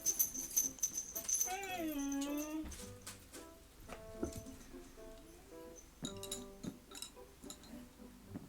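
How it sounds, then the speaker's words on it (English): A dog whimpers and whines in a quiet indoor room, with a rising and falling high-pitched cry near the start followed by softer intermittent whimpers and faint clinks, no talking. "Yeah, that dog."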